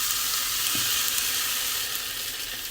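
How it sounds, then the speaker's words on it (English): Chopped peppers sauteing in a hot pan for an omelette, a loud steady sizzle and hiss throughout with a brief scrape as the pan is shaken, no talk. "So saute it for about a minute, make sure you shake it around a little bit."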